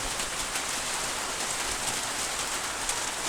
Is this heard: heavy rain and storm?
yes